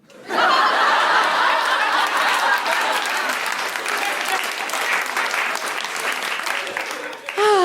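A loud burst of comedy podcast audience applause with laughter mixed in, sustained for several seconds before tapering off at the end.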